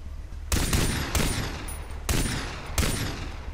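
Four sharp bursts of gunfire in Far Cry in quick succession, loud and punchy with a short echoing tail after each volley.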